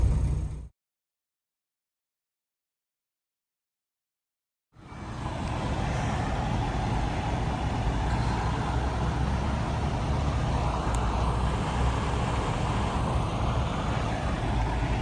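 A Freightliner Cascadia truck pulls out of the Fontana truck stop after a brief silence, its engine droning steadily and loudly with broadband road and cab noise that holds constant to the end.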